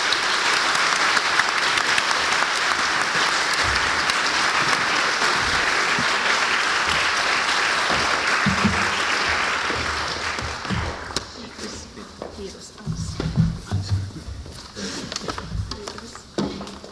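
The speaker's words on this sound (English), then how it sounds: "let's give a big round of applause to our panelists and thank them for coming here to share their story" Sustained audience applause for the panelists at a panel discussion, dense and steady for about ten seconds before thinning into scattered claps with a few low murmurs near the end.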